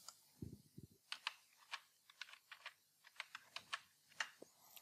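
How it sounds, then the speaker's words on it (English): Keys tapped on a computer keyboard in a quiet room, a string of crisp, irregular clicks close up, with a couple of duller thumps near the start and no voices. "simply tap the Windows key on your keyboard"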